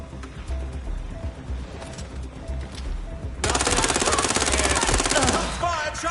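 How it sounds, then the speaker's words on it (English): Sustained rapid gunfire in Watch Dogs Legion on hard mode with permanent death, a loud dense burst of automatic shots that starts abruptly partway in over busy game sound and runs to the end. "Shots fired! Shots fired!"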